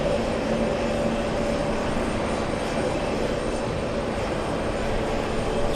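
Heavy jet airliner departing JFK bound for Mumbai, a sustained engine drone with faint tonal whine, steady and moderately loud at some distance.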